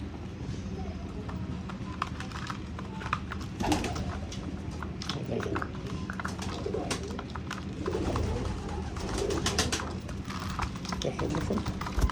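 Pet pigeons coo softly close by while they peck and hop about as they feed from a hand, with irregular taps and rustles throughout. Occasional talk is mixed in.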